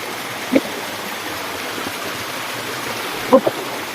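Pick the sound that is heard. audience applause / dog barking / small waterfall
small waterfall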